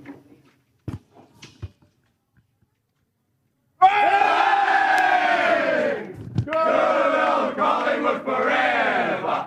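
Collingwood players and supporters sing the club song after an AFL win over GWS, a loud massed chorus of voices that bursts in after a few quiet seconds of scattered knocks and keeps going with short breaks between lines.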